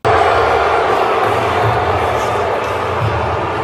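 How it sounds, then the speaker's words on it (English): A large arena crowd at WWE Raw boos loudly at The Rock appearing on the big screen, a dense, steady roar of jeers sustained throughout without a break. "That was fans at Raw tonight booing the screen with The Rock appearing on it"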